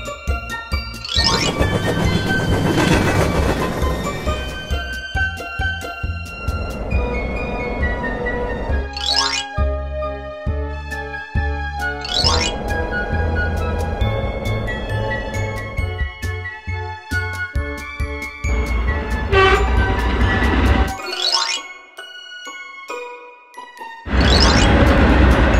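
Freight train: continuous heavy rumbling and clattering over the rails, with repeated sharp metallic clanks and squeals throughout, a short quieter gap near the end, then the roar resumes loudly.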